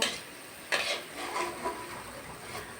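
Egg chops frying in hot oil as they are lifted out one by one, with soft sizzling and brief scrapes and clinks of a utensil against the pan, quiet and close.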